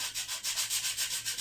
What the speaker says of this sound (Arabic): هتجيب حتة صنفرة عادية خالص اهي، وهتحاول تصنفر